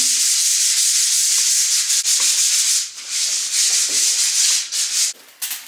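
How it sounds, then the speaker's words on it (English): Steady, loud abrasive rubbing of sandpaper on plywood, continuous with brief pauses and a few strokes near the end. "We're going to sand and paint. Sanding."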